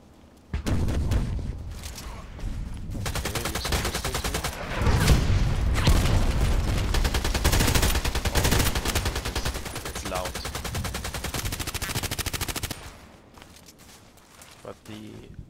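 Rapid automatic bursts ring out from an M4A1 Custom rifle in the shooter game Contract Wars, loud sustained strings of shots for most of the stretch with brief pauses, ending in quieter footsteps.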